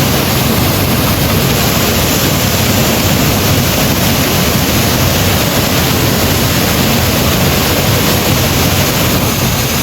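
Lalghat waterfall on the Indian border pours down in a loud, unbroken roar of rushing water that fills the whole scene, with no speech.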